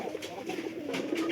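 Domestic pigeons cooing, a short soft burst of low throaty coos, fairly close and faint.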